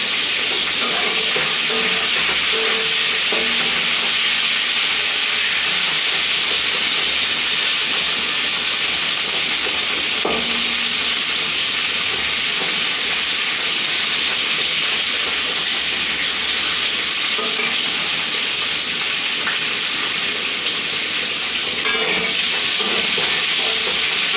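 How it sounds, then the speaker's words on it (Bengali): Cauliflower frying in hot oil in a pan, a steady dense hiss that runs the whole time, fairly loud and close, with a few faint clinks here and there. "আর একটু ফুলকপিটা ভাজতে দিয়ে দিয়েছি"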